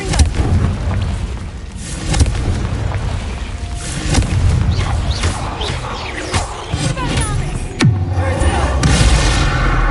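The Confringo blasting spell in the video game Hogwarts Legacy explodes with loud, heavy booms inside a cave, a dense rumbling wall of blasts and crackling debris sustained throughout, with a sharp swooping burst near the end.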